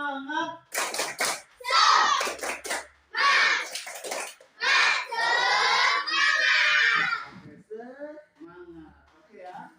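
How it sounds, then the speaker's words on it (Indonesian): A class of children does a rhythmic clapping cheer in a classroom, with sharp clap bursts mixed with loud group chanting and shouting, close and energetic. "Tepuk semangat."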